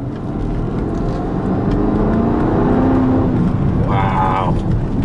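A 2009 Porsche Cayenne Turbo S with a 4.8L V8 runs with a loud, rising engine roar that swells and settles, heard from close by with a voice briefly speaking near the end.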